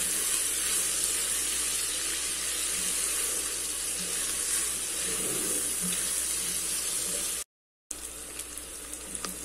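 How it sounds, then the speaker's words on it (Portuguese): Water is poured into a pot of browned pork chops, calabresa sausage, onion and garlic while making pressure-cooker rice. It gives a loud, steady rushing stream with a faint sizzle under it, and one brief dropout near the end. "Vou colocar 100 gramas, 100 ml de água"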